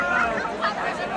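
A dense crowd gathers on the fort for the Ekvira Aai palkhi, with close, overlapping chatter and a continuous hubbub of voices.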